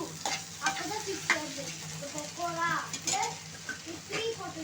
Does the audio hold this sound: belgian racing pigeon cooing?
no